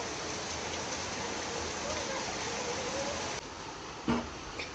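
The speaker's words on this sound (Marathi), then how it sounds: "पाऊस खतरनाक सुरू आहे रे बेटा" Steady, dense rain hisses throughout, briefly dipping near the end, with a faint voice speaking under the downpour.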